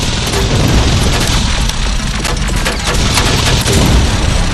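Heavy, continuous covering gunfire in the video game Terminator Resistance: dense overlapping automatic bursts and booming shots at close range, loud throughout with no pauses.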